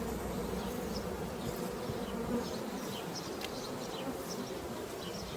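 Dense, continuous buzzing of many honeybees swarming close by around a hive, a steady droning hum with individual wingbeats flitting past.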